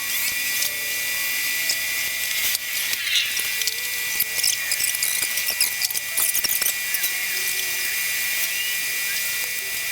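A steady high-pitched electric whine from an engine oil pump being primed on a Ford F100, continuous and close for the whole stretch, with faint clicks and handling noises underneath.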